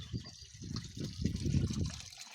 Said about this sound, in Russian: И потихеньку набираю воду